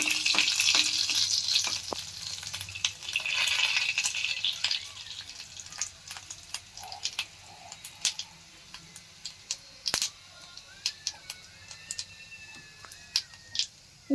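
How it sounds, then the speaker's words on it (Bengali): Whole garam masala of cardamom, cinnamon, cumin and cloves fries in hot oil with a sizzling hiss that fades to quieter crackle, punctuated by scattered sharp clicks and spoon taps against the pan. "এতে এলাইচি, দারচিনি, জিরে, লবঙ্গ সব আছে। এটা ভালো করে ভেজে নিচ্ছি।"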